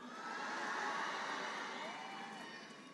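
A huge crowd cheers for Greta Thunberg at a climate rally in Madrid, a steady, dense roar of many voices that swells and then eases slightly.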